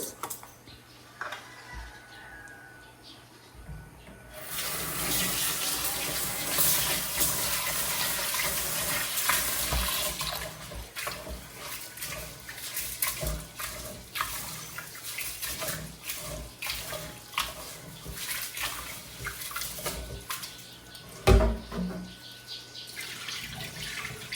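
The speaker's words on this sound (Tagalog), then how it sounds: "Hugasan ng bigas." Rice is washed under running water from a tap: after a quiet start a loud gush of water begins, then settles into steady splashing and swishing with occasional clinks, and no talking.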